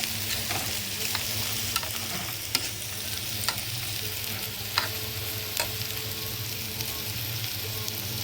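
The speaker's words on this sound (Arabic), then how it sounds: "بقلب فيها الرز اهو، اشوحه كويس" Rice is stirred and sautéed in the onion-flavored oil left from frying onions, giving a steady close sizzle with soft scraping stirs and a few sharper knocks, and no talking.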